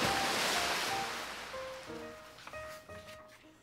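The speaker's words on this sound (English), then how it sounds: "that turtle named Jake fell on his back with a splash in the lake" A turtle falls into a lake in a children's storytime sound effect, heard as a rushing, wave-like splash that fades out, followed by a few soft musical tones.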